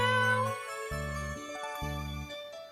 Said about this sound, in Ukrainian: Кошеня